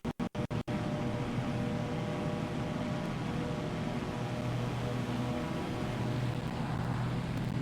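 Twin-engine Cessna 404 Titan in Microsoft Flight Simulator 2024 at takeoff power, a steady broadband engine and propeller roar with droning tonal hum, preceded by a few quick sharp clicks at the start.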